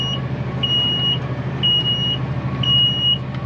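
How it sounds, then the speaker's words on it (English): A seed drill's electronic seed alarm beeps three times in a steady rhythm, each tone held about half a second, over the constant low rumble of a running tractor engine. "Seed alarm going off."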